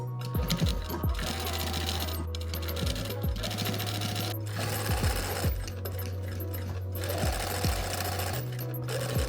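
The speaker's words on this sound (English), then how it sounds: "we're gonna go ahead and sew that down now." A sewing machine stitches down the center back seam of a corset top in rapid mechanical bursts, pausing and restarting several times, with close clicks and a low motor hum between runs.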